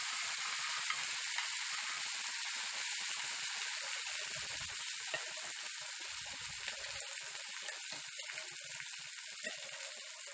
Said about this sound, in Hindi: अच्छे से अब हम इसको भून लेंगे। मिर्चियों को जलाना नहीं है इसको, याद रखें।